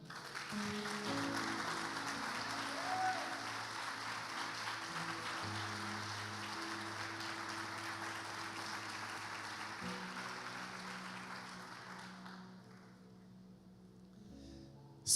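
A church congregation applauding, a sustained wash of clapping from many hands over a held music drone, thinning out near the end.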